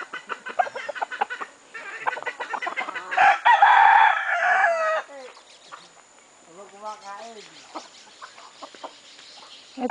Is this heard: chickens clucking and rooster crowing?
yes